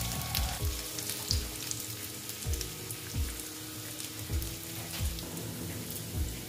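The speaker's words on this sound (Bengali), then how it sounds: "দেখো আলুটা আমি ভেজে নিচ্ছি।" Potatoes fry in hot oil for a Bengali pumpkin-stem chorchori, giving a steady, close crackling sizzle with regular soft thumps and scrapes from stirring, and no voices.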